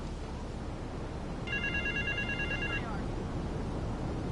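A payphone rings in the game GTA 3 as one short electronic trill that lasts about a second, heard faintly over a constant background rumble and hiss.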